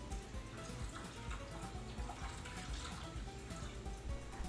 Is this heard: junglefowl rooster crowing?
no